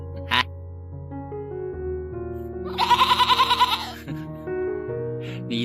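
A male goat on a free-range farm gives one drawn-out, quavering bleat up close, with a brief sharp cry just before it and a low hum underneath.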